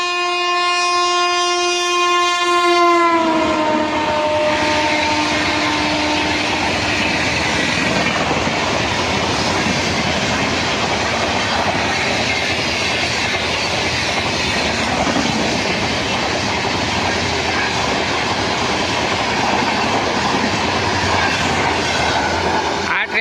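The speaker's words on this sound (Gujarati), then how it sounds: "જોઈ લ્યો, હોર્ન ફૂલ વાગે છે અને સ્પીડ પણ એમની ઘણી બધી છે" A passenger train's horn blares loudly for a few seconds, then the train roars past at high speed through a station without stopping, with a steady rumbling rush of wheels on track.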